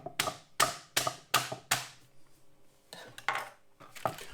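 A series of sharp jabs pierce the plastic film lid of a ready-meal curry and chips tray, about five quick close pokes followed by a few softer crinkling taps.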